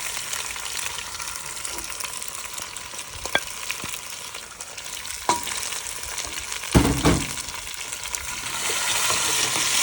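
Potatoes and salt frying in a pan for aloo gobi, a steady close sizzle with occasional scraping stirs and a few light clinks of the utensil against the pan, no voices.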